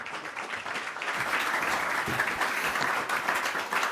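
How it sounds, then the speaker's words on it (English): Applause from a seminar audience, a dense continuous patter of many hands that swells after the first second and holds steady, moderately loud and unbroken by speech. "Another round of applause"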